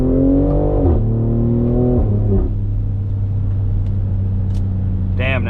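A BMW X3M revs with a loud, close engine tone that rises, drops and settles into a rumbling burble from the exhaust, with a short sharp rev at the end.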